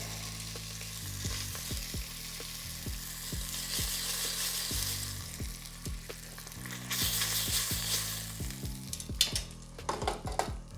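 Short ribs sear in a hot pot with a steady, close sizzling hiss, broken by repeated clinks and scrapes of a utensil as pieces are turned and lifted out. No one speaks.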